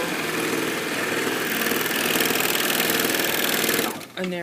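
A JUKI MO-2000QVP serger runs continuously while stitching a narrow hem, a close, fast, even mechanical whir that stops abruptly just before the end.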